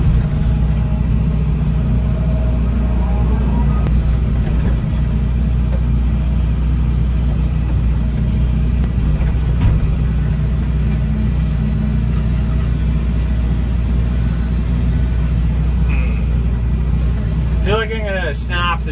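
A 245 machine's diesel engine runs steadily with a loud, constant low rumble outdoors while moving logs and granite, continuing throughout.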